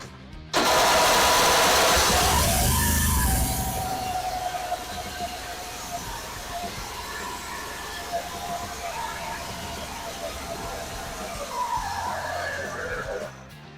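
Lawnmower engine running with its starter failing to disengage, a loud burst of starting and grinding noise at first, then a steady mechanical drone with a rubbing whine throughout, close by.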